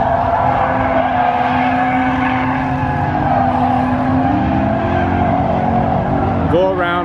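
Car drifting on a practice course, engine held on throttle, with sustained tire squeal and engine drone throughout and a sharp rising squeal near the end.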